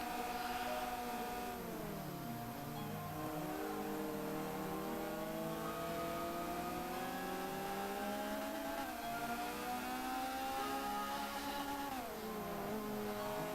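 A Renault Clio race car engine revs hard during a circuit race, its pitch climbing and falling through gear changes as it accelerates under power, steady and fairly distant with no voices.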